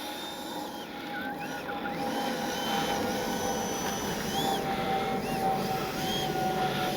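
A Freewing 80mm F-22 RC jet fitted with a KM model afterburner, its electric ducted-fan motor running in a steady, loud whine throughout, with a constant high tone and no talking.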